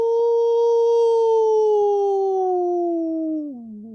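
A dog gives one long, steady howl that slowly sinks in pitch and breaks off near the end, loud and close with nothing else around it.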